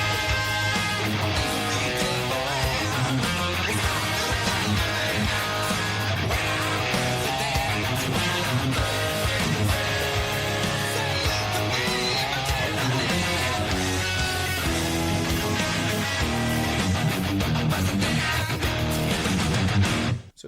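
Full-band arrangement of the chorus of a song, with dense guitar and driving rhythm playing continuously and loud for about twenty seconds without talk.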